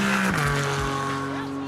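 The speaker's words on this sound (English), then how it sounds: "So this was one of those Cayman GT4s. Those just sound fantastic." A Porsche Cayman GT4 race car at the Pikes Peak hill climb gives a loud, close engine howl, its pitch sliding down sharply as it shifts or passes, then holding a steady droning note.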